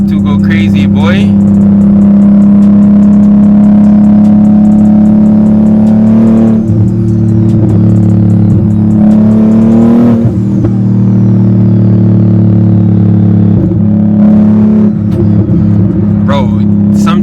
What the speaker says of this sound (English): I just want you guys to hear the car. All the downshifts and the upshifts sounds amazing.